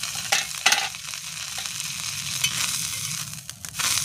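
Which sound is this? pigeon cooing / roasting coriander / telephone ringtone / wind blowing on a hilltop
roasting coriander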